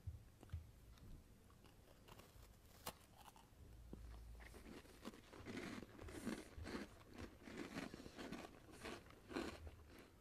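A crunchy cookie with Ghana chocolate bitten and chewed up close, quiet crisp crunches that quicken into a steady chewing rhythm through the second half, no talking.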